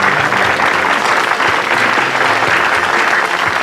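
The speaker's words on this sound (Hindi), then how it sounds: "जोरदार तालियां।" Loud, dense applause from a TV show audience welcoming film stars onto the stage, a continuous roar of clapping with a faint crowd murmur beneath and no voices over it.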